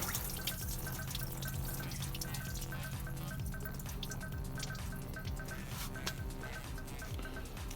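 Water drips and trickles from a Honda Civic turbo engine while the thermostat is removed, a faint continuous splatter with scattered small drips and a soft background hum.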